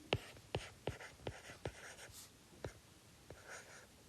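A pen or marker makes quick, faint strokes on a writing surface while drawing during a probability lesson, with about eight short scratches in an uneven rhythm and no talking.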